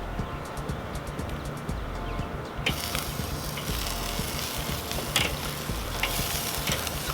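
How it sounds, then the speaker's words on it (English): Smoked mesquite chicken wings sizzling on a Weber kettle grill, a steady crackling fry close by with scattered clinks and scrapes as the wings are turned. No talking. "Alright guys, let's start grilling."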